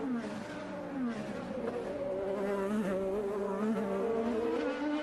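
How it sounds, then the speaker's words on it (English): An IndyCar race car engine runs on the rev limiter during the 2017 Detroit Grand Prix on Belle Isle, a sustained, buzzing high-pitched whine that wavers slightly in pitch and stays fairly distant and steady. "You heard Pagenaud's car running on the rev limiter just a little bit."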